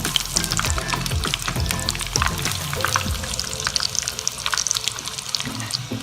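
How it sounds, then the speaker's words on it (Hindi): Crispy aloo tikki patties fry in a pan of hot oil, giving a dense, steady sizzle with a few clinks as they are flipped, close and fairly loud throughout. "इसे दूसरी तरफ से भी पलट के फ्राई कर लेते हैं।"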